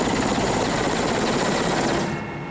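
A helicopter flies over the volcanoes of Kamchatka, with a loud, steady rotor and engine roar that holds even throughout and eases a little near the end.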